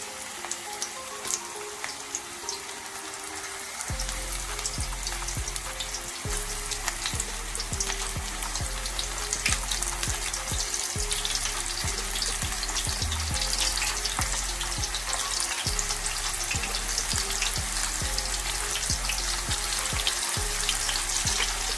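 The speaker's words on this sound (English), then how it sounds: "The ball finished, I'm gonna take it to the stove and fry it. Place the balls in the pot." Jerk shrimp meatballs frying in a pot on a stovetop over medium heat, a steady loud sizzle with crackling pops that swells after a quieter opening few seconds and runs on without talk.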